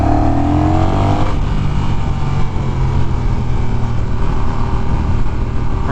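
A 2021 Honda Rebel 1100 DCT motorcycle riding on a road, its engine a loud, steady, close drone with a brief rising rev at the start and continuous wind rush throughout.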